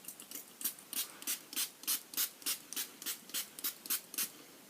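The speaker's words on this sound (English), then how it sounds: "It's got a decent sprayer." A pore-minimising makeup setting spray from the OXX Studio range sold at Kmart, pumped in a long run of about fourteen quick, even hissing bursts, close and fairly quiet, with no talking.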